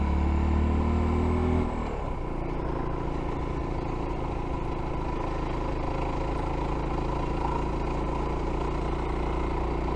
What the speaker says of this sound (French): Ah, j'adore la moto.